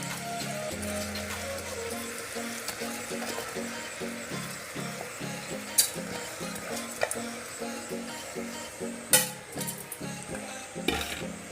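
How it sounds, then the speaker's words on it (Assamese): Soybeans and potatoes frying in a pan for khichdi as dal and rice are added, with steady low sizzling under repeated soft stirring scrapes and occasional sharper clinks of utensil against the pot. "সয়াবিন আৰু আলুখিনি ভাজা হৈ গৈছে, ইয়াতে মই দালি আৰু চাউলখিনি দি দিম"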